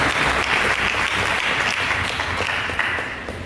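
A church congregation breaks into applause during a service, a loud, dense wash of clapping from many people that continues steadily and begins to fade toward the end.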